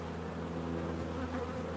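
Honeybees buzzing on a brood frame with nurse bees during a hive inspection, a dense, steady hum of many wings close up, soft and continuous with no voices.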